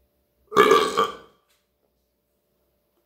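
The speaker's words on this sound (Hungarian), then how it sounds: "Finom akar büfögni" A single loud, drawn-out burp lasting under a second rises out of silence and fades away, heard alone with no voices. It comes up in a playful plug for Eichbaum brewery's Apostel wheat beer.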